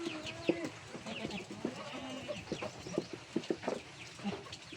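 Several chickens cluck and bawk in short, irregular bursts, fairly close, with soft background noise and no talking.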